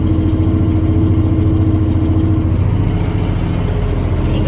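A tractor pulls a ripper through red dirt ground compacted by sheep, running at about 1700 revs with a steady, loud, low engine drone and constant close mechanical rumble, no talk.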